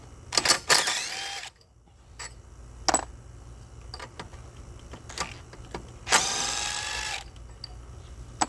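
Bolts are backed out of a lawn mower engine, likely with a power driver, in two loud bursts of roughly a second each plus several short clicks and taps, close by, with no talk.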